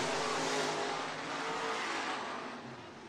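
IMCA dirt track race car at Hancock County Speedway in Britt, Iowa, accelerating: a dense, steady engine roar, distant and fairly faint, easing slightly toward the end.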